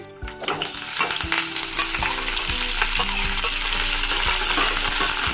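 Dried chillies and curry leaves crackle and sizzle loudly in hot oil, with a few sharp clinks of a spoon stirring the pan.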